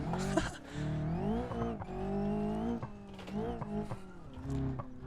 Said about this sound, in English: You can just hear the car's got absolutely no grip.